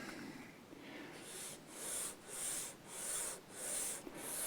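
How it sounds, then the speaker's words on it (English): Sandpaper rubbed over a small wooden repair piece for a Martin Backpacker guitar, with soft rasping strokes that settle into a steady back-and-forth rhythm of about six passes, close and quiet. "I'm using a slightly shorter piece here, as you can tell, to do the sanding"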